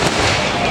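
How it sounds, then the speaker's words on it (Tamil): A firecracker bursts into a loud, crackling, broadband blast that lasts under a second. "இந்த வெடி அப்புறம் போடக்கூடாதானே?"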